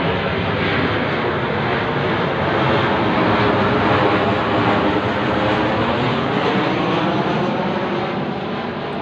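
A fixed-wing aeroplane passes low over a house roof, its broad, steady engine roar filling the whole span loudly and evenly, with no voices over it.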